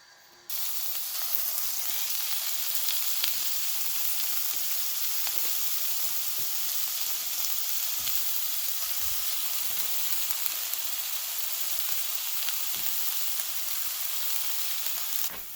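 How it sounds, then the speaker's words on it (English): Buffalo meat sizzles steadily in a frying pan at a wild camp, a continuous close hiss with occasional soft pops and stirring sounds. "this is buffalo. Going to brown these up in the pan"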